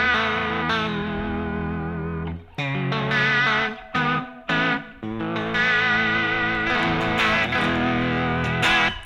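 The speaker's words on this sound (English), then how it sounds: "And you can hear the vibrato." Electric guitar played through a TONEX ONE pedalboard with vibrato and plate reverb, sustained wavering chords with a few brief pauses and restrikes, loud and alone.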